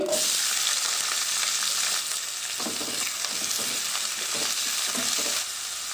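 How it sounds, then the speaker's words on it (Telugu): Sliced onions and green chilies fry in hot oil for a prawn tomato masala gravy, giving a steady, loud, dense sizzle with occasional soft stirring scrapes and no speech. "ఇప్పుడు ఉల్లిపాయ పచ్చిమిర్చి వేసి ఫ్రై చేసుకోవాలి"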